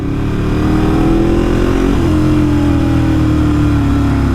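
A Kawasaki ZX6 motorcycle engine while riding, a loud, steady mid-pitched drone heard up close that dips briefly and then holds its note again, with no talk.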